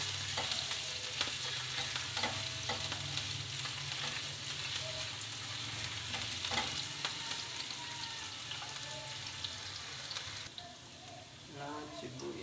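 Onions sauté in a pan for a chicken dish, a constant lively sizzle broken by scattered clicks and scrapes of stirring, moderately quiet throughout.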